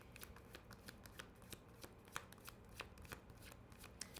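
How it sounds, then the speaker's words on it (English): Tarot cards being shuffled by hand, a steady run of soft riffling flicks and light slaps, close and fairly quiet, with no voices. "let me finish the shuffle before I keep on"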